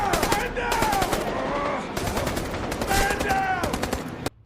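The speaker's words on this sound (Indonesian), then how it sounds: "terjadilah baku tembak di sana" A film shootout with military troops: rapid, dense bursts of automatic gunfire crackle almost without pause for several seconds, mixed with shouting voices, then cut off abruptly.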